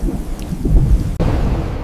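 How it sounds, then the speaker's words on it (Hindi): Thunder rumbles through a heavy rainstorm over a flooded city, a dense, loud and steady wash of rain with low booming swells, with no voices. "यहाँ शहर में भयानक आंधी और बाढ़ का सामना कर रहे हैं।"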